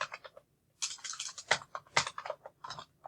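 Fast typing on a computer keyboard while entering a formula in an Excel spreadsheet: irregular bursts of crisp, close key clicks with short pauses between them and no talking.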